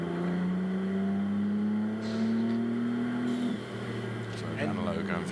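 A Ferrari Challenge race car pulls out of the pit lane in Spielberg, its engine droning in a steady rising whine that slowly climbs in pitch, heard continuously beneath a commentator talking throughout.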